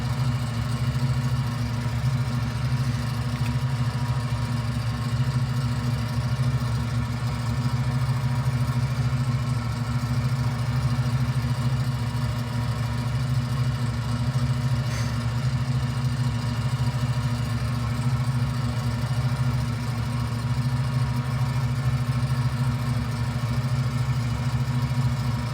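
Ultralight Aerolite 103 engine in Microsoft Flight Simulator 2020 drones at a steady low pitch during approach, a constant loud buzzing hum that holds without change throughout.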